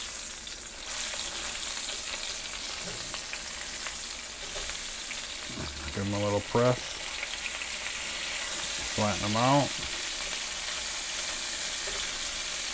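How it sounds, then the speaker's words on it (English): Sucker fish patties sizzle steadily in a hot frying pan, a constant crackling hiss running throughout, with two brief louder bursts as the patties are pressed flat while a person speaks. "Now we got a good sizzle going."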